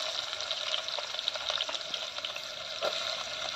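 Cut onions with bay leaf, cardamom and cloves frying in hot oil for a Telangana-style boti curry, a steady bright crackling sizzle at moderate level with a brief stir near the end, no talking.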